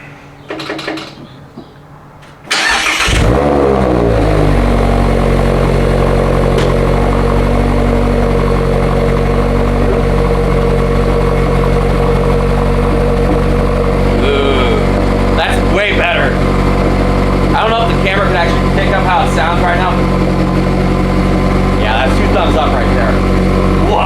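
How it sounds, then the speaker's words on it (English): After a short quiet moment, an ND Miata engine cranks and roars to life, then settles into a loud, rumbling idle through a Good-win Racing RoadsterSport exhaust, with voices talking over it. "Let's fire this thing up."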